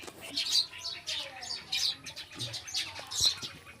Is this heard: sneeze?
no